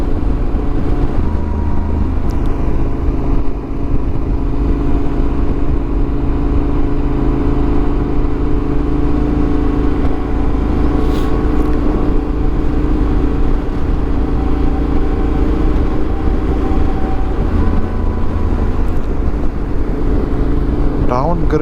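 A motorcycle engine runs steadily while riding downhill on Route 66 heading toward Barstow, a loud continuous low drone with wind rush, unbroken for the whole stretch.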